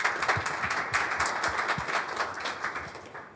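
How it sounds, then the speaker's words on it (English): A small audience claps for a panel of industry guests, a steady patter of hand claps of moderate loudness holding through the short stretch without voices. "I just want to give you guys a round of applause and a warm welcome"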